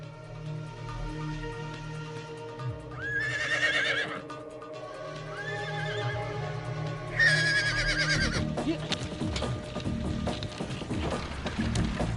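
A horse gives two clear, ringing whinnies during mounted archery, heard close over a low background rumble with faint hoofbeats and activity.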